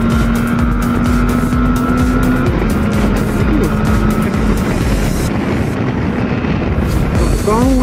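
A 2012 Suzuki V-Strom motorcycle accelerates hard to overtake a car, its engine rising in pitch over steady loud wind and road roar, with a shift partway through.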